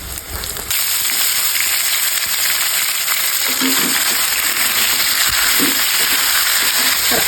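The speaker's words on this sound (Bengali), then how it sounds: "তেল গরম হয়ে গিয়েছে, অল্প একটু চিনি দিয়ে দিলাম, কালারটা ভালো আসবে। মশলা তেজপাতা দিয়ে দিলাম, পেঁয়াজ কুচি দিয়ে দিলাম। এখন খাসির মাংসটা দিয়ে দিলাম।" Mutton hits hot oil with a little sugar, bay leaf and chopped onion, bursting into a loud, dense sizzle after a brief quieter moment and roaring on continuously with occasional crackles.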